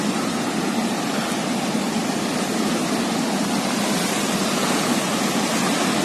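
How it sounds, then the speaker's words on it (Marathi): Sea waves roll in at high tide on Kelve beach, a steady, loud wash of surf noise with no let-up and no voices. "समुद्राला पण चांगलीच भरती आलेली आहे, त्यामुळे पाणी एकदम जवळच आहे."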